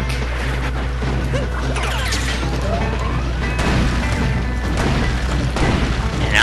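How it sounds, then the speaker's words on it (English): A tank in Super Mario Odyssey blasting its surroundings: loud crashing impacts and booms over a steady, dense game soundscape, with sweeping whooshes and a droning low hum throughout. "I'll blow everything up with that tank."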